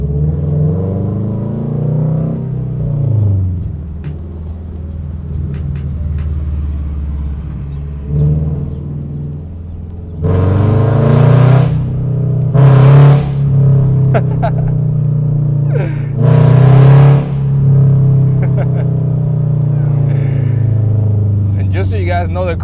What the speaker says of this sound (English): the car is making all this noise